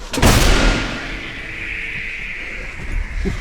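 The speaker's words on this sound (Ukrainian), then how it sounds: "Десантники зустрічають ворога пострілами з гаубиці М777." A single massive M777 howitzer boom close by, its sharp blast rolling out into a long, low echoing rumble that lingers across the landscape.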